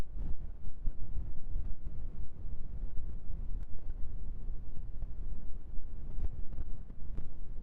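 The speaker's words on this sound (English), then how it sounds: "it's kind of stormy at my house right now, so you might hear the wind." Low, gusty wind buffeting a microphone, a continuous rumbling roar with occasional sharper bursts, no voices.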